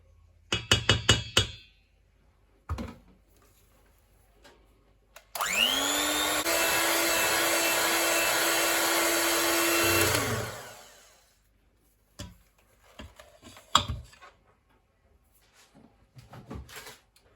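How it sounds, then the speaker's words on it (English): An electric mixer whirs steadily for about five seconds while beating red velvet cake batter made with beetroot, framed by kitchen clatter and light knocks before and after. "So I'm gonna get the mixer back in here."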